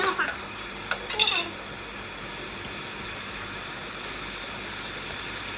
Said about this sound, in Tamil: நல்லா வதக்கி விட்டுக்கோங்க ப்ரௌன் ஆகிற வரைக்கும்.